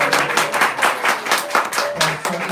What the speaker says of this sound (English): So let's give a big round of applause to His Grace Radha Gopinath Prabhu